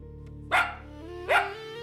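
A two-month-old puppy gives two short, bright, friendly barks, evenly spaced and close by, with a faint background hum and no talking.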